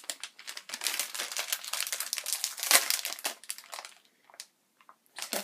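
Crinkly plastic wrapper of a peanut-free chocolate-filled biscuit package being pulled open, a close burst of dense crackling with one sharp snap, then a pause and a few last rustles.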